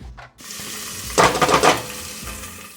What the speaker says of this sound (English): add my onions and my garlic to the pot